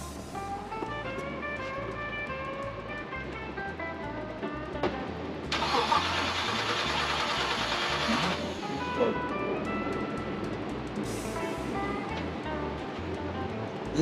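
1957 Chevy engine being cranked by the starter, a rhythmic chugging churn that runs steadily under nearby talk, with a loud burst of noise for a few seconds midway.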